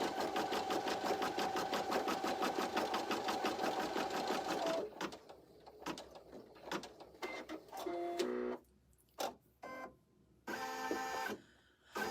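An embroidery machine stitches a notebook cover in the hoop, its needle running in a rapid, steady mechanical rhythm for several seconds, then stopping and starting in short, uneven bursts of whirring and clicking.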